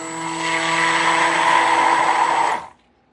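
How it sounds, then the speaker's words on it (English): Stick blender running steadily for about two and a half seconds while mixing lye into soap batter for layered rainbow soap, a close, loud whirring hum with a strong motor whine that cuts off abruptly. "Go ahead and burp your stick blender."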